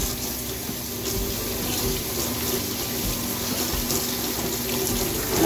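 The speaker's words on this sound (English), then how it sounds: "I'm just gonna rinse it with some nice warm water." Warm water runs steadily from a tap into a sink, rinsing a mid-century modern wooden chest during restoration, a continuous splashing rush without pause.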